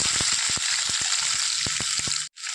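Dried red chillies fry in hot oil in a pan for a curry, a steady loud sizzle with scattered sharp pops and crackles, ending in a brief sudden drop before the hiss resumes.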